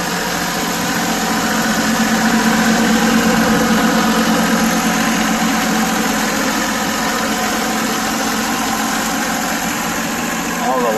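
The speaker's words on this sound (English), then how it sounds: "DEUTZ ALLIS 5215 two-wheel drive tractor." A Deutz Allis 5215 two-wheel drive tractor idles with a steady diesel rumble and faint vibration, holding an even, constant level for the whole stretch with no talking.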